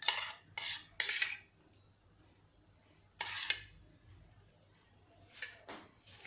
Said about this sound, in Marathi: आता हे दही आपण यामध्ये काढून घेऊया.